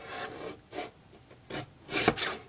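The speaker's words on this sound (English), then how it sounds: "let me just trim this edge a little bit to make it" Paper edge being trimmed for a scrapbook layout, producing four or five short close scraping strokes separated by brief pauses.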